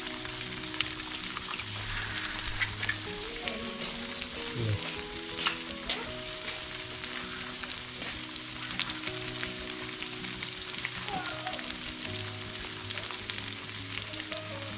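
Eggs fry in a pan in a steady, close sizzle for a long stretch, with occasional scrapes and clinks of a utensil and no voices.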